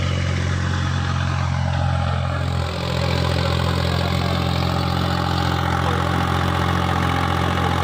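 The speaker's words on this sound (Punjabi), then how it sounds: "ਚਾਰ ਕਿੱਲੇ ਵਾਲੇ ਘੇਰੇ ਦੇ ਉੱਤੋਂ ਦੀ ਚੱਲਦਾ ਪਿਆ ਟਰੈਕਟਰ" A New Holland 3630 4x4 tractor engine runs steadily nearby while sowing wheat with a super seeder, a low, throbbing chug that holds constant throughout with no talking.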